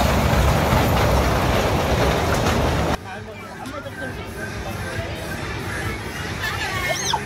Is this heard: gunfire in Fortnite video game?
no